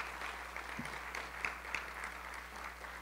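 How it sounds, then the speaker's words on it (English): Audience applause for presenters at a community solutions event, a steady wash of many hands clapping throughout, moderately distant and even, with a few sharper individual claps standing out. "Let's give one more round of applause to all of our presenters."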